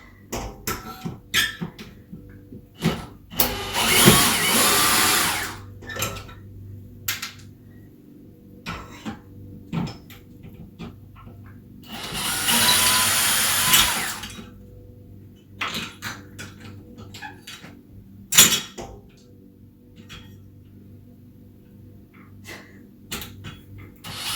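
A power drill run in reverse to back screws out of window blind brackets, two sustained whirring bursts several seconds long separated by clicks and handling knocks, close and without speech.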